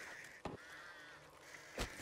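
Crows cawing in the video game Back 4 Blood, a few short harsh caws at moderate distance, one early and a louder pair near the end, with no talk.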